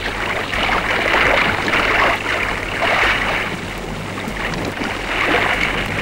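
Oars of a sail-and-oar yawl at sea stroke the water in a steady rhythm, each pull bringing a rushing swell of splash and spray against constant wind and water noise.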